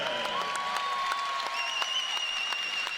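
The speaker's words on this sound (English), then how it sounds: "There you see the standing ovation from the crowd." A basketball arena crowd gives a standing ovation for a senior, the all-time leading scorer, with sustained clapping and cheering alongside shrill whistles and sharp individual claps that carry strongly throughout.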